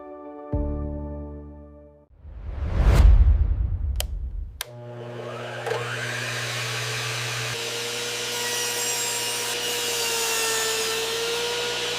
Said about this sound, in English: Meet the ultimate mini table saw. Compact, powerful, and built for precision.